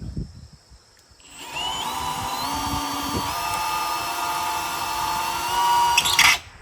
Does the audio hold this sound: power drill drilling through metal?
yes